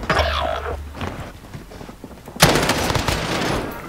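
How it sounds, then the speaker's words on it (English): Rapid bursts of automatic gunfire in Call of Duty Warzone, a short rattling volley followed by scattered shots and then a louder, dense burst of fire close by, with no talk over it. "Receiving hostile fire!"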